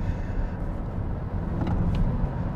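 A Tesla Model S Plaid electric car accelerates hard, a steady broad road and wind roar heard from inside the cabin, with no engine note and no talking.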